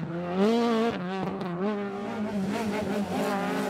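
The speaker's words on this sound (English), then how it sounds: "Chris Armstrong and Darren Curran in another Ford Escort." Ford Escort rally car on a stage at the 2023 Rally of the Lakes in Ireland, its engine loud and close, revving up and down through gear changes in a continuous rising and falling snarl.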